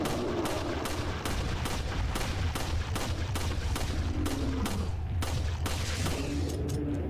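Repeated gunshots from a firearm in Resident Evil 4 on the Wii ring out in a steady rhythm of roughly a dozen loud, sharp reports over continuous game background noise, with no talking.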